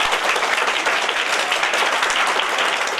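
Audience clapping firmly and steadily at a Rotary Club school event marking Alluri Sitarama Raju's birth anniversary, a dense, even wash of many hands throughout with no talk.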